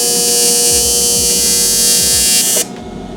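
A fitting being welded onto a radiator hose part for a WRX drag build, a loud, steady, close electric buzz and hiss that cuts off sharply near the end.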